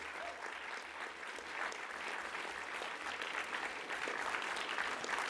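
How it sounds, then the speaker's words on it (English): Steady applause from a seated conference audience honouring the event's organising team, a broad even patter of many hands clapping throughout, fairly distant and without speech. "can I please ask you to join me in a round of applause for the ALPSP team?"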